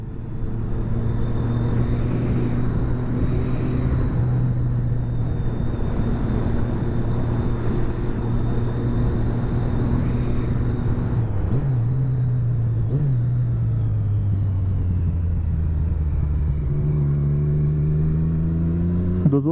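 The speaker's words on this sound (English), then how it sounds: "Those were some quite aggressive downshifts there." Motorcycle engine on a night ride, steady loud drone with engine tones dipping and climbing through aggressive downshifts and revs, a piercing induction whine riding on top and constant wind rumble, no talking.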